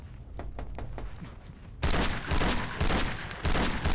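Rapid gunfire from a Half-Life 2 mod, a run of sharp shots that starts quieter and turns into louder, closer bursts, with repeated cracks arriving in quick rhythm.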